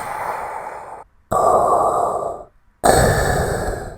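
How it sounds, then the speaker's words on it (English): Darth Vader's robotic, mechanical breathing: three slow, loud, hissing breaths in a steady rhythm, each separated by a brief silent pause. "he hears a familiar robotic breathing."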